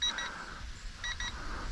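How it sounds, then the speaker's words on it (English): An RC transmitter for a brushless A300 biplane gives its low-battery warning: two short double beeps, about a second apart, thin and fairly faint over a soft background hiss. "And the remote beeps."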